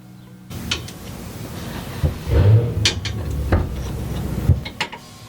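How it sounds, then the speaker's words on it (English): A one-piece driveshaft is installed into a Nissan 240SX with a big turbo RB engine, giving metallic clanks, knocks and scraping thuds at irregular intervals, close by. "and then we will just throw the drive shaft in"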